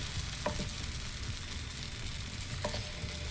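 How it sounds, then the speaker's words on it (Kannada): Thick dosa-style batter sizzles on a hot tawa over a medium flame, a dense close hiss and crackle with a couple of faint clicks, no talking. "ತವ ಸ್ವಲ್ಪ ಬೆಚ್ಚಗಾದ ತಕ್ಷಣ ನಾವು ಮಾಡ್ಕೊಂಡಿರೋ ಹಿಟ್ಟನ್ನು ಹಾಕೋಣ."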